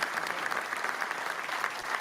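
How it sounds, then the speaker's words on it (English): A podcast studio audience applauds steadily for about two seconds, a dense even patter of many hands clapping, heard close and without any talk over it. "people just follow him around so they could clap when his name's mentioned"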